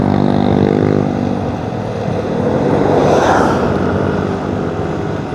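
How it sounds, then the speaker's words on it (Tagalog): A Yamaha X-Max 350cc scooter passes loudly and close, its engine roar swelling to a peak midway and then fading away, with no talking. "X-Max yun eh, kaya malakas."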